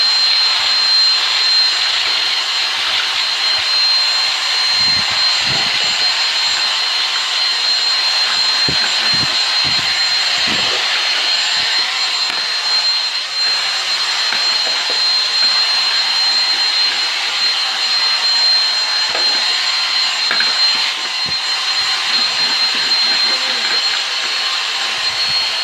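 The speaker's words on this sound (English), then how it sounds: "now everyone's getting cordless vacuums" A Dyson V6 cordless vacuum cleaner runs continuously with a loud high-pitched whine and airflow roar, with faint bumps and rattles as it picks up debris.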